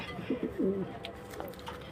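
A racing pigeon hen coos softly, two short throaty coos close by, then low background noise.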